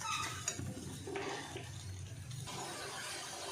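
Tomato paste hits a hot pan for soybean kofta curry, giving a steady close sizzle with stirring scrapes over the first seconds, then an even frying hiss.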